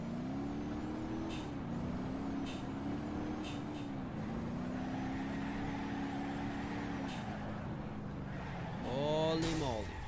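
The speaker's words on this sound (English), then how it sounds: "We're gonna try to drift on this map." A car drifting in the BeamNG.drive video game: a steady, loud engine drone whose pitch rises and falls as the throttle changes, ending in a sharp upward revving whine.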